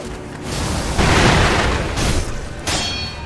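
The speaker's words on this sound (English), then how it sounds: "Let's try out the firecracker." Firecracker prosthetic tool going off in the Sekiro video game, a loud crackling burst of rapid pops and booms filling the moment, with no talking.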